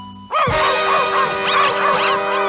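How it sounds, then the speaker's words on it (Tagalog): A cartoon puppy gives a loud, steady run of yips and whimpering cries that lasts about two seconds, rising and falling in pitch and heard alone without any voices over it. "Naku po, yung tuta!"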